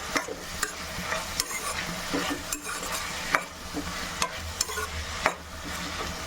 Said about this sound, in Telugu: దీంట్లోకి టమాటా ముక్కలు కూడా వేసుకున్నాం. హైలో పెట్టుకొని